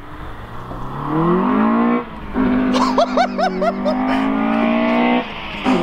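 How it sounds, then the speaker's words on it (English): Honda EG hatchback engine with loud induction noise, revving up in rising sweeps with brief gear-change dips, close and dominant, with a voice exclaiming briefly over it. "The induction is honestly just super, super loud."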